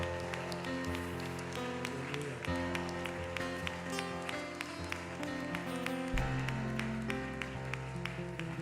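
A church congregation applauds during a celebration service, steady dense clapping over loud sustained worship music with bass and organ-like chords, continuing throughout.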